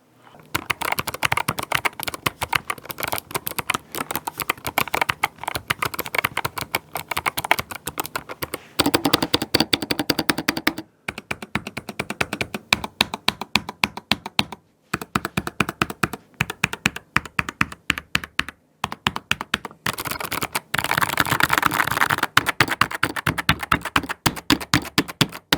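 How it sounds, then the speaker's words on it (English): Fast, steady typing on a Halloween-themed modded keyboard: a continuous clatter of close, crisp key taps with a few brief pauses, heard alone. "let's get into the sound test for all you who want the ASMR of a really not great sounding keyboard"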